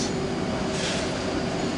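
Constant low rumble and broadband hiss of a train near Amsterdam bound for Hilversum, a steady, close, unbroken mechanical drone.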